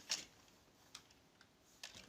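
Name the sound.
typing on a computer keyboard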